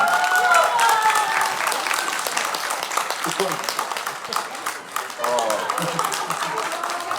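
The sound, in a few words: audience applause for young folk dancers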